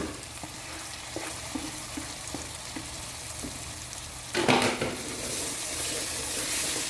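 Chopped tomatoes hit a hot pan of onion, ginger and garlic for chilli chicken, giving a steady close sizzle with faint stirring clicks, then a louder hissing burst as the tomatoes go in and keep frying.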